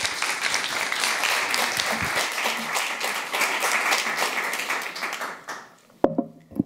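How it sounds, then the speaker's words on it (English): Audience applauding a lecturer at a talk on fighting authoritarianism, sustained crisp clapping that fades out, followed by a few faint sounds. "so please give her a warm applause"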